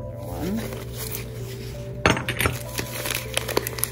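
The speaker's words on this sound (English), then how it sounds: "Another sawtooth hobnail salt cellar in yellow." Yellow and blue glass salt cellars, sawtooth hobnail and carnival or slag glass, clink and knock together as they are handled, with several sharp close clinks over a low steady background hum.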